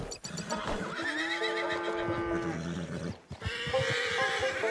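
Frightened horses, including a nervous foal, whinny in the Red Dead Redemption 2 video game: loud, quavering neighs repeat over several seconds, overlapping with restless hoof and body movement and no talk.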